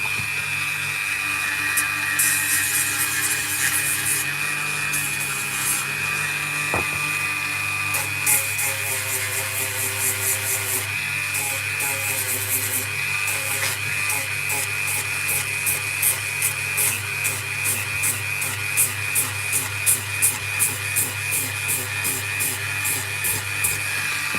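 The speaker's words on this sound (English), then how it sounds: "I might even just sand that quickly." A carved wooden woodspirit whistle being sanded, giving a steady abrasive rasp with quick repeated strokes that grow more rhythmic toward the end, close and continuous with no talking.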